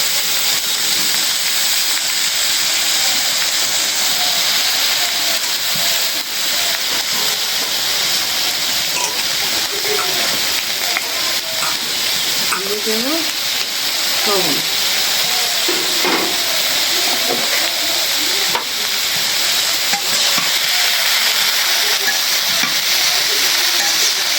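Potatoes frying in oil left over from frying fish, a loud constant hiss and crackle with scattered scraping stir sounds, and faint voices in the background.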